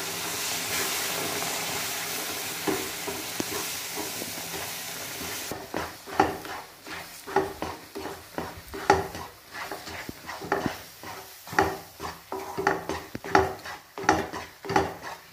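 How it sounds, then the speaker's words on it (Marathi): A spoon scrapes and stirs a mohanthal mixture with milk added in a pan, starting with a hissing sizzle and then settling into rapid rhythmic scraping and clinking against the metal, with no speech. "आपला चम्मच आपण सारखा फिरवत ठेवला पाहिजे"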